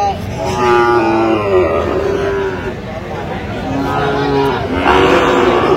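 Several cattle, including Sahiwal bull calves, low and moo nearby at a cattle market, long drawn-out calls overlapping one after another, with background crowd murmur.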